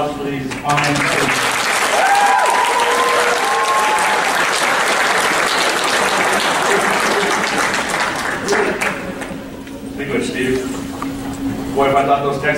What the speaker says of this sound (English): One more round of applause for these fine students.